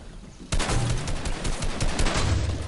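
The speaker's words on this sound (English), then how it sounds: "Oh my god, I'm being shot from behind." Rapid automatic gunfire in a video game, with a player being shot from behind; after a half-second lull a dense, loud burst of shots runs continuously to the end.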